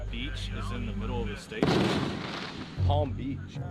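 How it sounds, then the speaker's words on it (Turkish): A firework explodes partway through with one sudden loud boom that trails off into rumbling crackle, set among ongoing talk. "Burada habire havai fişek"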